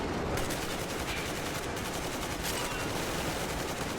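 A machine gun in the video game Metro Exodus empties its ammo belt in one unbroken, loud burst of rapid automatic fire lasting several seconds.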